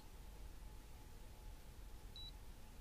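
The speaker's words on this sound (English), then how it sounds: "we gotta let it beep" A digital fish scale gives a single short electronic beep, clear and high-pitched, while weighing a flathead catfish, over a low background rumble and hiss.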